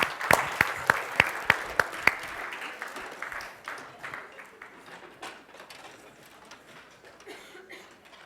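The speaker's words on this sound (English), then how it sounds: "And give yourselves a round of applause." A group of coaching workshop participants applauds, opening with several sharp, distinct claps before the sound thickens into a steady round of clapping that gradually fades away.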